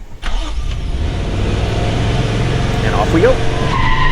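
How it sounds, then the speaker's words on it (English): A 2022 Toyota Tundra pickup in sport mode with traction control off launches hard, its engine roaring and building steadily while the tires spin and squeal, loud and close, with a voice speaking briefly at the start. "Nothing like a good bit of wheel spin to get the blood pumping."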